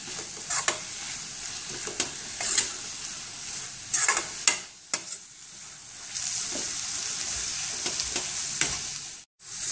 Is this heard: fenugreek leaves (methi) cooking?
yes